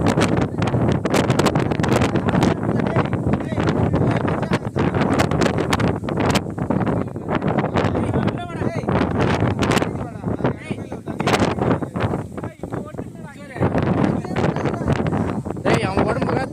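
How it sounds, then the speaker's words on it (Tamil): Strong wind roars across the Baba Budangiri hills, battering the microphone in loud, gusty rushes that barely let up, while people talk over it. "காத்து அடிக்குது"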